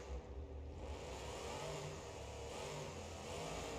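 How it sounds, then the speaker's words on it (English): A monster truck engine in the driving game BeamNG.drive holds a steady, sustained rev, a low droning engine note that barely changes in pitch and stays fairly quiet and continuous throughout. "Listen to that engine note."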